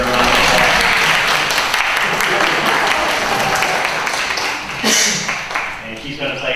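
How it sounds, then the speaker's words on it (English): An audience claps loudly for a young student pianist at a Disklavier piano demonstration, the applause dense and close, then tapering off near the end. "Let's give her a round of applause."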